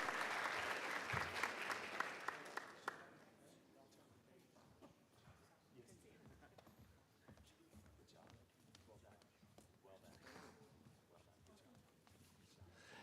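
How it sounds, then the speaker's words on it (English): A school board meeting audience applauds the Argyle High School debate team and their coach: a dense burst of clapping for about three seconds, then it quickly dies away into quieter room murmur and scattered shuffling. "one more round of applause for Argyle High School debate team and Coach Haley Harp"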